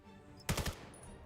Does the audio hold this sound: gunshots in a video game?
yes